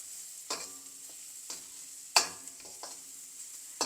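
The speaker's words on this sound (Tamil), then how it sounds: "வெங்காயம் பாவக்காய்லாம் சேர்ந்து ஒன்றா ஃப்ரை ஆகுது." Onion and bitter gourd fry together in a pan with a steady sizzle, while a spoon stirs and scrapes with a few sharp metallic clinks at irregular intervals. No one speaks.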